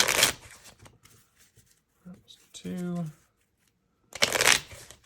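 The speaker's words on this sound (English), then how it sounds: "we'll shuffle 5 times just so we can't manipulate where those Astra cards are" Cards from the Welcome To the Moon board game are shuffled in two loud riffle bursts at the start and end, with a person speaking briefly in between.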